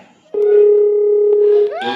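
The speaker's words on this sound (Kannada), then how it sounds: "ನೀನೊಬ್ಬ ನಿನ್ ಕೃಷಿಗೆ ಫೋನ್ ಮಾಡ್ಲಿ." A steady telephone dial tone hums loud and unbroken for over a second while a call is being placed, then stops and gives way to a short burst of rising noise at the end.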